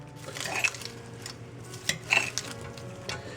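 A lettuce, avocado and chickpea salad with onions is tossed in a bowl. Soft, irregular clinks and scrapes of utensils against the dish come through quietly over a low background hum.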